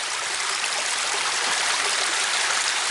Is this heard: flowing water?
yes